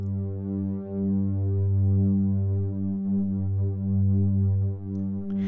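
A low, steady synthesizer drone hums with a gentle periodic wobble, sustained and even throughout.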